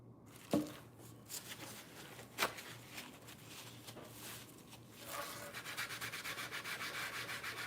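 Paint dots being rubbed out on a cheap plastic decor piece to fake a stone texture: close, dry scuffing with a couple of sharp taps, building into a fast, steady back-and-forth rubbing toward the end.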